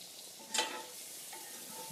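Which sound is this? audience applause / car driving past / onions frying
onions frying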